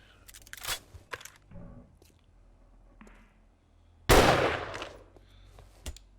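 Gunshots from weapons fired in 7 Days To Die on Insanity mode, a scattering of short sharp cracks followed by one loud, longer burst of fire that tails off, with quiet gaps between.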